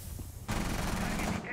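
Gunfire from a shooter video game starts abruptly and becomes a dense, sustained burst of rapid shots that fills the rest of the moment. It sounds loud and close, with a faint voice in the background before the shooting begins.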